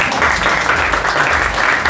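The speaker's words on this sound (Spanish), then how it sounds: "Gracias por los aplausos" Crowd applause at a book presentation: a brief, steady burst of many hands clapping, loud and close, with no pause in between.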